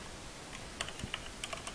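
Code being typed on a computer keyboard for a Java tutorial: a quiet run of crisp individual keystrokes, irregular but steady, close up and soft against a faint background hiss, with no voices.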